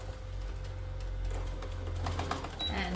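A sewing machine stitches a seam on a fabric basket, making a fast run of light mechanical clicks that builds in the second half over a steady low hum.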